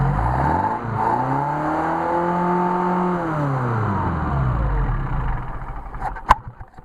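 A Mercedes 190SL engine fitted with Solex carburetors revs up and back down in a smooth rising and falling drone, then stumbles and drops off near the end with a sharp knock.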